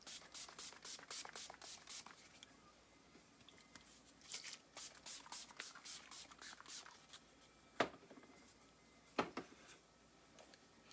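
Several quick bursts of hissing setting spray onto a face, with short pauses between them, then a couple of sharper taps, all close up and fairly quiet.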